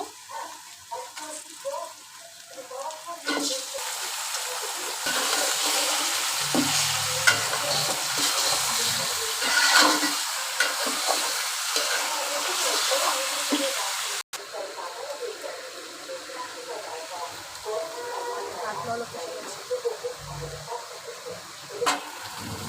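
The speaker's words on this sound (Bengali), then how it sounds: "পেঁয়াজের সাথে এখন মাংসটা হালকা করে ভেজে নেব।" Steady sizzling of meat frying in a pan with onions, with occasional stirring scrapes, continuous and fairly close throughout.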